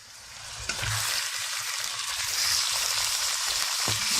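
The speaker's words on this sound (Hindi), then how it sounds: "ये 2 मिनट तक हमने चिकन को फ्राई किया है।" Chicken pieces sizzle and crackle steadily in a hot pan with golden fried onions, a dense close frying hiss with a brief clatter near the start and no voices.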